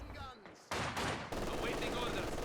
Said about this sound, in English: The sniper is tearing them apart.